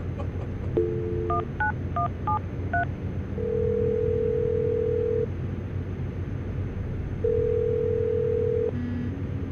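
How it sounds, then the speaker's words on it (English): Touch-tone telephone keypad tones as a number is dialed, a quick series of dual-pitch beeps followed by long steady ringback tones, clear and alone with no talking. "I'm going to dial the phone number right now."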